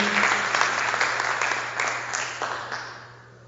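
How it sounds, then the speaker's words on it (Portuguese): A church congregation claps together in a dense burst of applause that gradually fades, heard over a low steady hum in the room. "se você crê, aplauda o Senhor"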